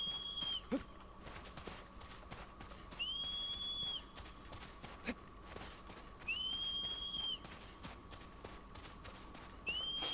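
A rider whistles for a horse in Shadow of the Colossus: four sharp, rising two-note whistles spaced a few seconds apart, with hoofbeats clip-clopping steadily underneath and no talk.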